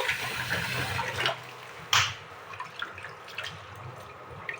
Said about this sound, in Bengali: একদম ভালো করে পরিষ্কার করে কয়েকবার করে কয়েকবারই আমি ধুয়ে নেব